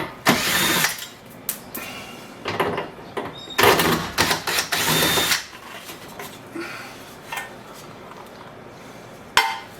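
Bursts of a power drill whirring in short, repeated runs, close and loud, with metallic clatter between them, removing screws from a 2004 car's rear passenger door while replacing the window regulator.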